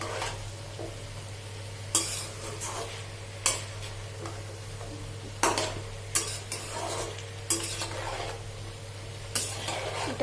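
Vegetables and green chillies are stirred in a sizzling pan, with a steady soft sizzle under repeated scraping strokes of a spoon against the pan, several sharp clanks spaced through the clip, no voices.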